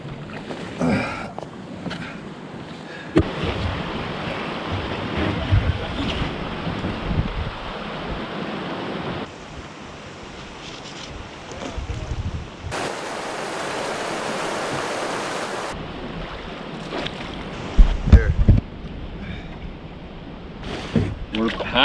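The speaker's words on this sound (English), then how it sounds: "We're paddling." Paddles splash and pull through river water during canoe travel upriver in the wilderness, a steady rushing water wash with intermittent strokes and thumps; voices speak occasionally.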